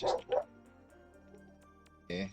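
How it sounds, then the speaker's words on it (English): A dog barks a few short, sharp times at the start and again near the end, fairly close, with a brief word spoken over quiet room tone. "That dog just barks all fucking time."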